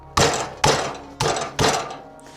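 Garlic cloves are struck with four heavy, evenly spaced thunks, each close and loud with a short decay, so the peels loosen.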